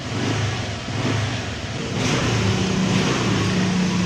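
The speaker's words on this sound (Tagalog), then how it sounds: "Subukan natin i-revolution ulit" A Honda Click scooter engine revs steadily after a repair, a loud, continuous close-up motor drone holding one sustained pitch with a slight rise partway through, with no talking.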